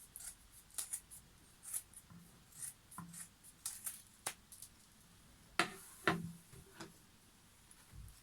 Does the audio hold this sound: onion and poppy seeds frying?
no